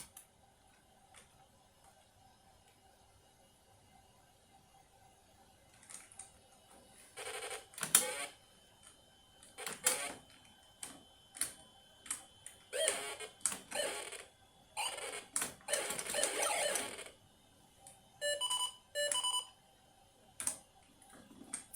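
Buzzy PC-speaker beeps and clicking chirps come from a DOS shareware game on a 386DX computer. They arrive in irregular bursts after a quiet start and are heard alone.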